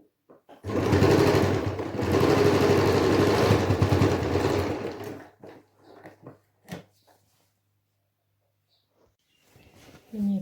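A sewing machine runs in one steady continuous burst while finishing a pillow, loud and close for several seconds, then stops, leaving quiet handling clicks and a brief voice.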